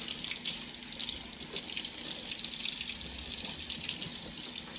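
Tap water runs steadily into a kitchen sink while oxtails are washed, a continuous close hiss with small splashy variations and no talking.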